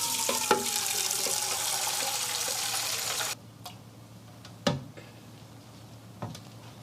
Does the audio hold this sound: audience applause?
no